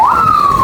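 A police car siren wails loudly and close by, in a single brief rising-then-steady tone.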